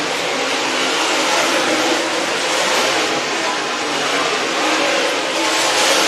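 Dirt race cars circle a short-track speedway during a hot lap session at Sugar Creek Raceway, a loud continuous engine roar holding steady throughout without letup.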